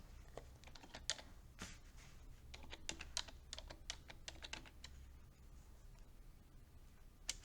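Quiet, close computer keyboard typing, a rapid irregular run of crisp key clicks spread over several seconds, with no voices over it.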